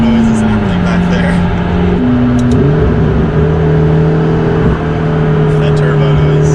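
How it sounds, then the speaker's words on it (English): Loud Toyota Supra turbo engine revving up and settling, with whistling turbo whine and a wastegate flutter midway, close by while someone talks over it. "You hear like that wastegate,"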